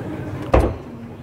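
An IKEA Hauga wardrobe sliding door gives a single short, solid knock or bump as it moves, a brief close sound against quiet room ambience.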